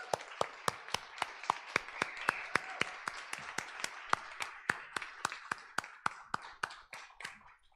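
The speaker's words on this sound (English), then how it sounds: "So let's give them a round of applause" An audience at the close of a weekend literary conference on Willa Cather applauds, a soft wash of clapping under one nearby pair of hands beating a steady, sharp rhythm that slowly tapers off.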